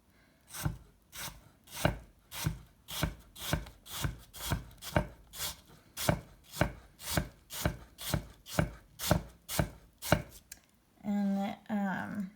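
Rapid, evenly spaced chef knife chops slicing an apple on a cutting board, about two strokes per second, close and crisp, ending with a brief rustle.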